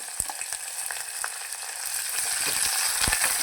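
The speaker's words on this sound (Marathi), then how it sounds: "असा कांदा फ्राय करून घ्यायचा" Chopped onion frying in hot oil inside a pressure cooker for Maharashtrian masale bhaat, a steady crackling sizzle with a few sharp pops, growing slightly louder toward the end, with no voices.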